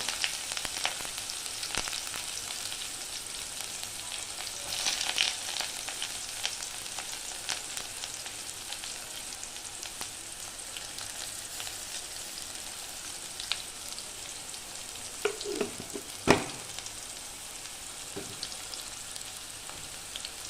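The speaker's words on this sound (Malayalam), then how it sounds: "നമ്മൾ ചെറുതായിട്ട് അരിഞ്ഞു വെച്ച ഉള്ളി അതിലോട്ട് ചേർക്കാം." Soft, steady sizzle of chopped onion frying in oil, with scattered pops and a few utensil clinks, no voices.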